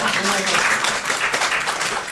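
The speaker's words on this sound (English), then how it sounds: "So, I want a round of applause for Gabe" Lecture audience clapping fills the moment, a dense burst of applause with some voices mixed in underneath.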